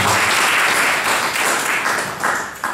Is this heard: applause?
yes